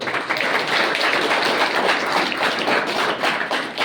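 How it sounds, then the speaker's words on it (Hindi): A hall audience at a defence academy career session claps hands, a steady, loud wash of dense applause with no speech over it. "दोबारा ताली बजाओ"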